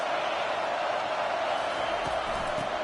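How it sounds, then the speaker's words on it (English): A college football stadium crowd during an Ohio State versus Georgia game gives off a dense, steady roar that holds level throughout, with no distinct cheers rising above it. "This crowd trying to make life miserable for this offense."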